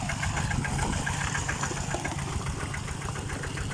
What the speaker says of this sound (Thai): เสียงบรรยากาศในการสูบปลาตึ๊กปึ๊กตึ๊กตึ๊กแล้ว